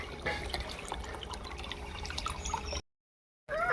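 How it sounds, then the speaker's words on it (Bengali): Water drips and splashes down close by in a steady patter of small drops, then cuts to silence before resuming briefly. "দেখছো কত সুন্দর জল কত সুন্দর জল পড়তেছে"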